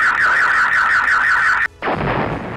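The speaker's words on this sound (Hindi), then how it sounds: "यूक्रेनी हमले के दौरान पार्किंग में खड़ी गाड़ियों के सेंसर अलार्म बजने लगे।" Car sensor alarms sound in a parking lot during a missile and drone attack, a loud steady warbling siren tone that cuts off abruptly, followed by a rumbling blast-like noise.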